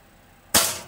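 A single sharp gunshot cracks out loud and close during a noise level test, its bang decaying quickly into a short tail with nothing else around it.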